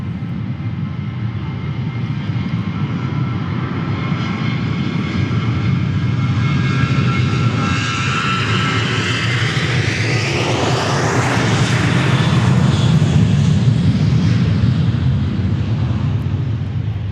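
Boeing airliner at Dallas Love Field, a loud, sustained roar of jet engines with a broad rumbling wash that swells toward the end as it passes close by, with no voices over it.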